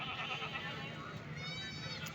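Goats bleat at a livestock market in Multan, Pakistan, their wavering cries rising over a constant crowd murmur and nearby voices.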